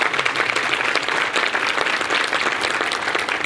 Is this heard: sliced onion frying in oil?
no